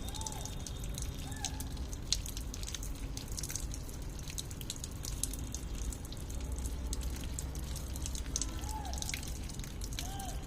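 Flowers in a garden being washed under running water, a steady close splash and trickle with scattered drips throughout, with faint birdsong in the background.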